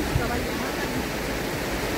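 The flooded Shivnath river in Chhattisgarh rushes past in a steady, broad roar of churning water, constant and close, with no voices over it.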